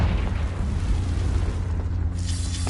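A blasting spell's explosion in a Harry Potter video game, a deep sustained boom rumbling heavily in the low end for a couple of seconds before a brighter burst near the end, loud and close.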